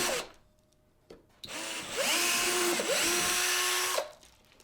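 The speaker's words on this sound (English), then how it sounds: "drill two holes for attaching these rubber tubes" A power drill bores holes into a homemade broom-handle expedition sled, the motor whining in a steady high buzz for a couple of seconds, dipping and rising in pitch as the bit bites, then spinning down. No talk.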